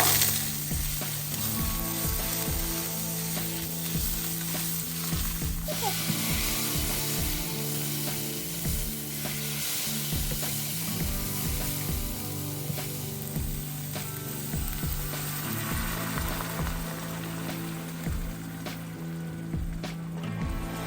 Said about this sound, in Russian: Слегка обжарим томатную пасту.